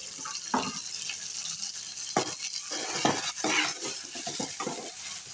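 Dhaba-style white dal mash is stirred with a paste of cumin, pepper and garam masala over a frying hiss, with repeated close, scraping spoon strokes in uneven bursts and no voices.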